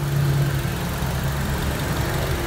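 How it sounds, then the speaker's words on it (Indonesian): A Honda CR-V engine idles smoothly after injector cleaning, a loud, steady, close mechanical hum with a low drone that barely changes. "Suara mesin sangat halus."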